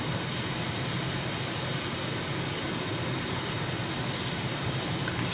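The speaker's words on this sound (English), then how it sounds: "I'll max this jet out because now we're just following the coast" A jet held at full thrust in a flight video game produces a steady, loud roar of broadband engine noise that stays constant throughout with no talk.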